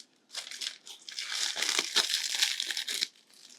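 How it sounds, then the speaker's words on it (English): Thin plastic crinkles and crackles in quick, uneven bursts as a plastic part is pulled off a moss wall art kit, close and fairly quiet, stopping after about three seconds. "So you can just remove the plastic part here"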